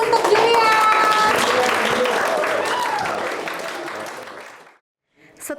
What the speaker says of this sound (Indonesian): Kita kasih aplaus untuk Julian.